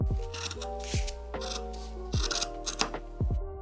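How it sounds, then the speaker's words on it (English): Scissors cut through fabric pattern pieces for a kids' summer top in a series of close, crisp snips, each closing blade stroke followed by a soft slide over the cloth, about five cuts. "Try not to lift the fabric and keep the scissors at a 90-degree angle to the fabric."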